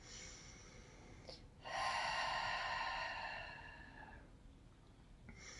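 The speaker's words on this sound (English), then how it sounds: "breathing to prepare." During a led Ashtanga yoga session, one slow, audible breath draws in and flows out in a long, steady exhale, soft and close in a quiet room, with no talking.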